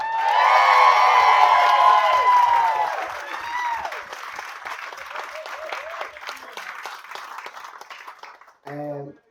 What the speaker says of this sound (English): If I can get a big, massive round of applause for the new Mrs. Raw.